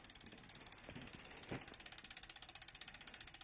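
Bicycle wheel spinning freely on its hub while the freewheel ratchets in a fast, even train of soft clicks, close up and fairly quiet, with faint handling noise near the start and no talking.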